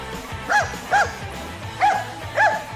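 A dachshund barks four times in short, sharp yaps, two close together then a pause before two more, fairly near and loud.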